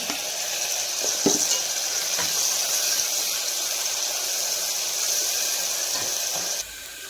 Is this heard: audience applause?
no